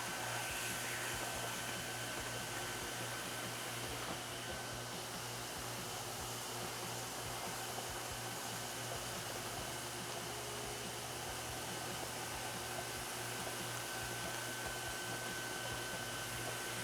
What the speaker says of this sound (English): I've actually just got the vacuum on and I'm not pulling the trigger, and the goal here is to suck out as much moisture as I can